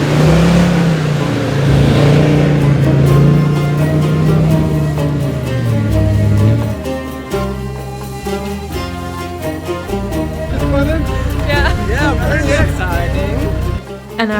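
Off-road 4x4s, an old Land Rover Defender, Toyota Hilux and heavy Ram, driving through Sahara sand dunes in Tunisia: a loud engine drone that shifts pitch as the vehicles rev and pull, continuous throughout with voices talking over it.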